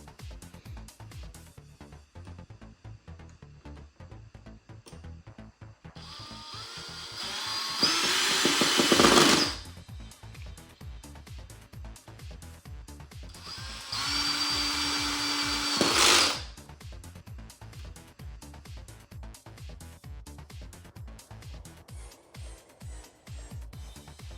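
A power drill whines loudly in two long bursts as screws are driven into a metal dance pad panel, with steady tapping and clicking in the quieter gaps between.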